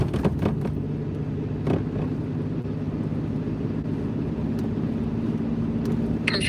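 Steady low engine drone and road rumble inside a moving car, continuous and even throughout with a few faint clicks.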